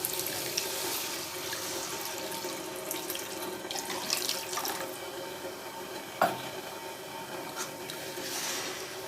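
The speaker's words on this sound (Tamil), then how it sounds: "தண்ணி சேர்த்துக்கலாம்." Water pours from a tap into a pan of egg curry, a continuous hissing splash at moderate level with a few brief clinks and knocks partway through.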